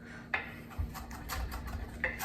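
A knife rocks back and forth on a cutting board mincing herbs for peanut chicken satay, giving a quick series of soft, close tapping knocks in an uneven rhythm.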